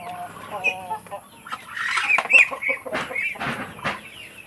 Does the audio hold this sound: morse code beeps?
no